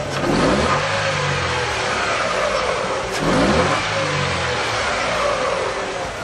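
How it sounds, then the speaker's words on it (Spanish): A car engine revs as it accelerates, its loud, close mid-range drone rising and falling in pitch through two clear throttle swells over a steady running roar. "Conforme aceleramos el vehículo, también vemos cómo se pierde el vacío y aumenta el voltaje."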